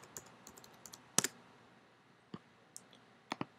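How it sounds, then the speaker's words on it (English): Sparse, quiet clicks from a computer mouse or keys during photo editing work, arriving in small irregular bursts, some doubled, with short pauses between them and no talking. "Okay, click OK."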